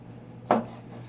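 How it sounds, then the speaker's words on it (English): A knife slicing through a bacon-wrapped, apple-stuffed pork tenderloin, a single short crisp cut against a board, close and clear in an otherwise quiet room. "So you're going to cut right through the bacon."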